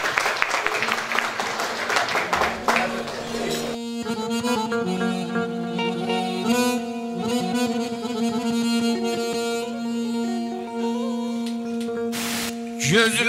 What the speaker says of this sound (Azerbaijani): Alqışlar gəlsin.